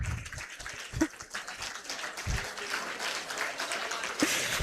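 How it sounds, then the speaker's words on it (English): Continuous clapping from a seated audience at a university dean's awards ceremony, a steady dense patter with a few louder nearby claps standing out. "Keep clapping, he's coming."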